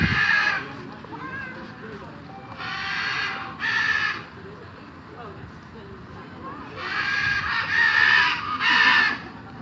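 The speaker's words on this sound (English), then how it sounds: "They make a lot of noise." Large birds at Disney's Animal Kingdom let out several loud, harsh caws in bursts, some close together, with visitors talking at moderate volume in the background.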